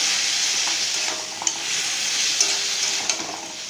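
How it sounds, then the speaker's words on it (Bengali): Prawns with spices stirred and fried in a wok over low heat, a steady close sizzle with a few light scrapes of the spatula. "এটা হালকা আঁচে একটু নেড়ে নেব"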